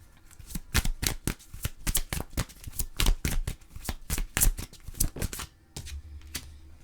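Oracle cards are shuffled by hand before an advice card is drawn: a close, rapid run of crisp riffling and flicking bursts that slows and fades near the end.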